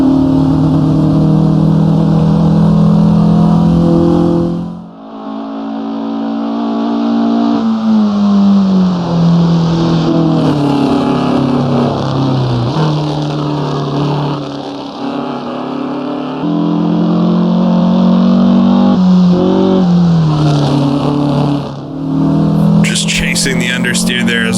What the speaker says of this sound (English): Now we'll go through a little bit faster of a section up to 4th gear.